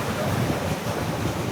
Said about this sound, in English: It's windy and there's beach bar right now.